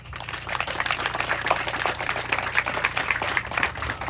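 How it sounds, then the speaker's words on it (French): An audience applauds Father Bernard at a parish ceremony in Haiti, the clapping steady, dense and sustained for several seconds at a moderate, slightly distant level. "Applaudissez Père Bernard, s'il vous plaît."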